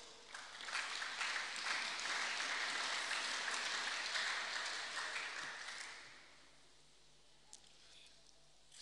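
A church congregation applauds and acclaims the Lord, a dense wash of clapping and voices filling the room for about six seconds before fading to quiet murmurs.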